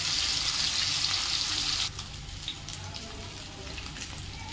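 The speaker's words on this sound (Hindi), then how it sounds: "आर पट साइड मध्य 2 रु 3 मिनिट पर्यंत भल भाव भाजिबा।" Rohu fish frying in a pan with a steady, loud sizzle that drops to a softer, even crackle partway through, with no talking.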